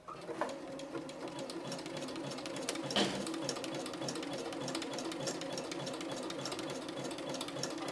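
A Janome 3160 QDC sewing machine runs a zigzag stitch in a steady, fast mechanical chatter that keeps going throughout, close and even, with one sharp click near the middle.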